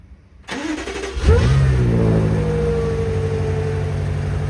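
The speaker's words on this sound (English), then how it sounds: "we finna crank the murdered out M5 up" A blacked-out BMW M5 Competition cranks over and fires up in snowy weather, catching with a loud rev that settles into a steady, rumbling idle close by.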